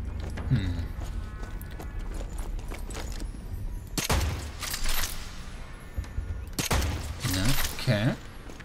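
Gunfire in the video game Strange Brigade: several sharp, loud shot bursts with metallic mechanism clicks and clattering between them, set over steady game ambience.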